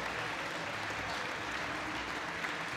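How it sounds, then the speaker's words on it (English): Standing ovation from a squash crowd after a 92-minute classic match, sustained dense applause filling the hall at an even level throughout, with faint voices mixed in. "Standing ovation. Well, rightly so."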